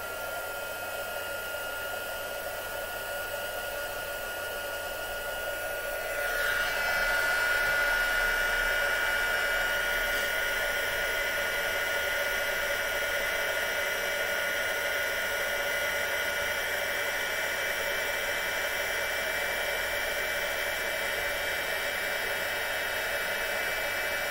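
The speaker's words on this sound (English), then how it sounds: "So heat up the gun." A steady electric heat gun used for crafting hisses continuously, growing louder a few seconds in and then holding an even, whooshing roar with no speech.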